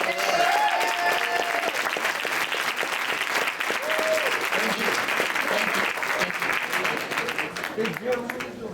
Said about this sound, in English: can we please give these hard-working folks a round of applause?